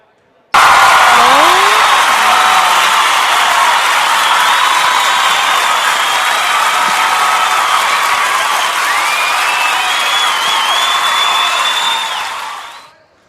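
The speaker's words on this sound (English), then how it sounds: "So I brought my own crowd noise." Loud recorded crowd roar with cheering, whoops and clapping blasts steadily for about twelve seconds during a high school basketball broadcast, Littlefield Wildcats against Muleshoe Mules, then cuts off abruptly.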